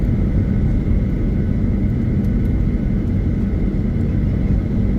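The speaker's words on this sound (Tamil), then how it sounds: "முதல் இறங்கின கட்டார் ஏர்வேஸ் இப்போ கிளம்பியாச்சு" A Qatar Airways airliner on its takeoff run, heard as a steady, loud, broadband engine roar and rumble that holds without a break, with no voices.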